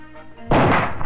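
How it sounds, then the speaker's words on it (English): A 300 Weatherby Magnum rifle fires a regular hunting bullet at a steel armor plate, one loud, close, booming report with a short ringing tail, preceded by a low hum. "The 300 Weatherby Magnum with a regular hunting bullet is tested next."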